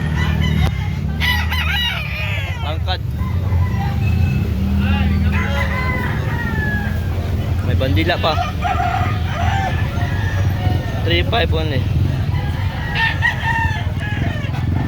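Gamefowl chickens and roosters at a Carbon, Cebu market crow repeatedly, several birds overlapping near and far among clucks over steady crowd din, with people talking throughout.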